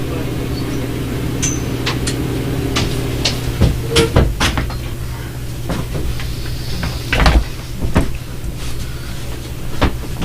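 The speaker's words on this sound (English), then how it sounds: "want to close that door" A door being shut indoors, heard as a handful of sharp knocks and thumps over a steady low room hum, with a louder bang near the end and no speech.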